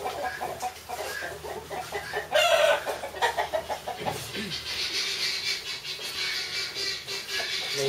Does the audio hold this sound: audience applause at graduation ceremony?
no